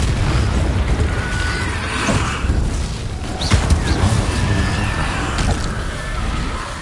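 A Confringo spell in Hogwarts Legacy sets off a loud, rumbling explosion, part of a dense and continuous roar of magical combat booms.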